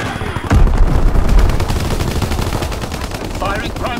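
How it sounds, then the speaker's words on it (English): Gunfire and artillery battery shelling in Call of Duty: WWII on the Shipment 1944 map, with dense, loud automatic fire and booming impacts rolling continuously, a heavy burst near the start, and game voice callouts mixed in. "Firing primary battery."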